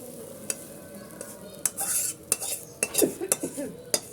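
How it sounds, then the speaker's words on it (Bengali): A chepa dried-fish mixture fries in oil in a pan, giving a soft sizzle broken by sharp scrapes and clinks of a spatula stirring against metal, close and moderately loud with no talking. "এটা তেলের মধ্যে দিয়ে একটু ভাজা ভাজা করে নিব।"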